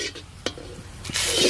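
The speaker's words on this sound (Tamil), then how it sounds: "இப்போது பட்டை, லவங்கம், ஏலக்காய், அன்னாசி பூ இதெல்லாம் இதில் போடுறோம்." Whole spices (cinnamon, cloves, cardamom, star anise, bay leaf) dropped into hot oil in a village pan for quail pepper fry: a few soft taps, then a swelling close sizzle rising toward the end.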